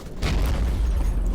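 An artillery shell bursts against a building in the World War One game Battle of Empires 1914-1918, a heavy low boom that rumbles on through the short moment without letting up.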